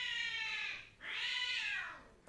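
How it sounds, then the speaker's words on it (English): Cats fighting, two long, loud, rising-and-falling yowls split by a short break, with nothing else heard in the background. "My cat is fighting."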